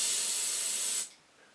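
Airbrush spraying out 4012 reducer at about 30 psi, a loud, close, steady hiss for about a second that then cuts off sharply, leaving only faint background.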